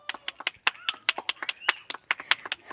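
Children clapping for the winners of a balloon game, a quick scattered run of sharp, close hand claps with uneven rhythm.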